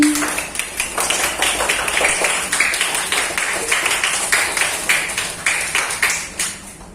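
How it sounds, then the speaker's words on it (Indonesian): A classroom of students gives a round of applause, a steady run of many quick overlapping claps lasting several seconds at moderate loudness, with no clear talking. "Tepuk tangan sekali lagi"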